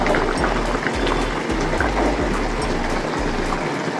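Fish curry broth with potatoes bubbling at a rolling boil in a pot, a dense steady burble of bubbling liquid, loud and close, with low gurgling pulses throughout.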